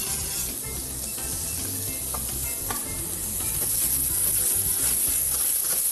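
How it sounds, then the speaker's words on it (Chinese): Chopped ginger sizzles in a small amount of hot oil in a wok while being stir-fried for a Sichuan-style dish. A steady, dense hiss and crackle runs throughout with light stirring scrapes, close up and without talk. "把姜的香气呢煸出来"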